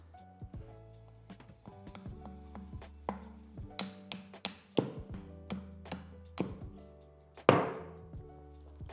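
Sharp, irregular blows of an axe biting into cherry wood while roughing out a spoon bowl and shoulders, close and crisp, with one louder chop near the end and a brief spoken word.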